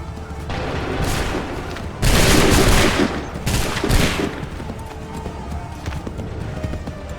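A volley of musket gunfire in Assassin's Creed III erupts suddenly as a loud, massed crack, with a second sharp volley a second later, both over ambient battle noise.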